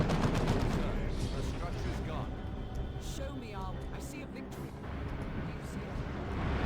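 A Tactical Marine Sergeant's Kraken Bolts fire rapid bursts at an Imperial Guard Sentinel in Dawn of War 2: Retribution, a dense crackle of gunfire with battle noise under continuous commentary.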